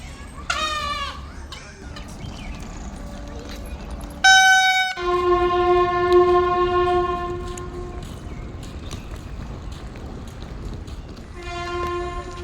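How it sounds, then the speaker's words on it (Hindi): A train at a railway station on a line converted from narrow to broad gauge, with loud horn blasts, several sustained and one short, over a rumbling platform background and a faint bleat. "ये जो ट्रेन खड़ी नज़र आ रही है"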